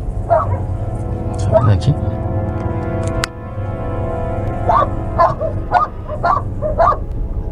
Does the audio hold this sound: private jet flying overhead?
no